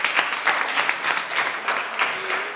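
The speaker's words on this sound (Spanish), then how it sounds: "Venga, un aplauso para la compañera" Applause from an audience at a children's murga carnival group performance, steady rhythmic clapping from a moderate crowd filling the whole stretch, fairly close and evenly loud.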